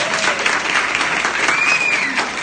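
Steady audience applause fills a lecture hall on decision-making and philosophy, dense clapping continuing evenly throughout without pause, with faint murmuring underneath.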